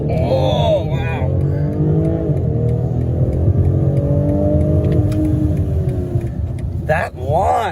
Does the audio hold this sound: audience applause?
no